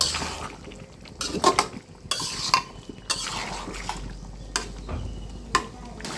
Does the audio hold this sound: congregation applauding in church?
no